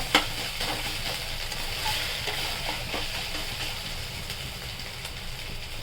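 Cabbage curry ingredients frying in a pan, a steady broadband sizzle with occasional stirring scrapes, continuous and fairly close throughout.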